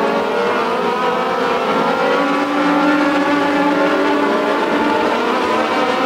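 Race cars roar around the Tomah-Sparta Speedway during a feature race, a loud, sustained engine drone holding steady throughout without pause.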